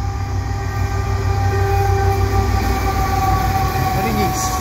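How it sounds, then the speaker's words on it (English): A CN mixed freight train rolls past Cedar Park station on Montreal's west side, a loud continuous rumble of railcars with a steady high-pitched tonal whine over it throughout. "I got a CN train here at Cedar Park in the west side of Montreal."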